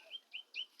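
Small birds chirp in a village courtyard: four short, bright, rising tweets in quick succession, faint and close, with no other sound around them.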